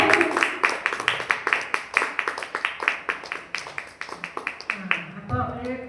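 An audience claps in quick, even rhythm for several seconds, with many hands close by, and it trails off as a voice begins speaking at the end.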